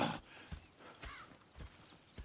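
Horses clip-clop at a steady walk in Red Dead Redemption 2, with crisp repeated hoof strikes close by and a brief whinny in the mix.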